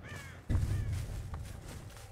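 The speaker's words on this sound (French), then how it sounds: "J'ai entendu un corbeau." A crow caws a few times in Dead by Daylight, brief raspy calls rising over quiet game ambience with soft shuffling steps.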